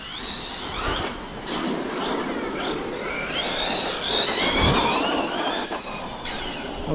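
A Hobao SSTE radio-controlled car drives on a slippery field, its motor giving a continuous high whine that rises and falls in pitch, fairly loud and steady throughout with no one talking.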